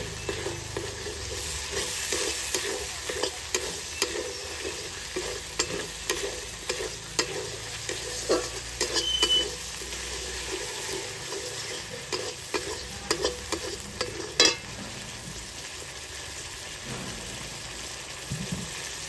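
Sour curd is stirred into a fried spice masala in a pan, giving a continuous sizzling hiss with frequent scraping and clattering strokes of a spoon, close and fairly busy.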